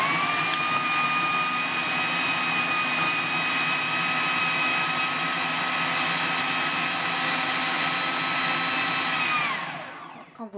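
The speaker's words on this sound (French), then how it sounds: "on va actionner le robot à vitesse maximale pendant presque 30 secondes" A food processor whirs at maximum speed mixing pastry dough, a loud steady high-pitched motor whine with grinding underneath that holds for about nine seconds before spinning down and stopping.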